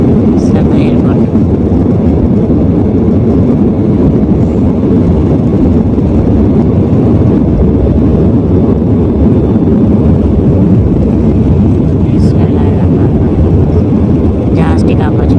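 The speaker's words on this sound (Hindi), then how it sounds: "रनवे पे आप देख सकते हैं जहाज़ उड़ रहे हैं, दौड़ रहे हैं।" An airplane on the runway at Skardu airport gives a loud, steady, unbroken engine roar heard from close up, like a cabin interior, throughout.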